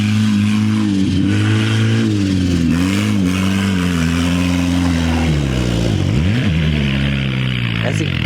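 A turbocharged Honda Civic wagon engine driven hard in snow, loud and close, its note rising and dipping through several revs and gear changes, with a person's voice briefly audible under it.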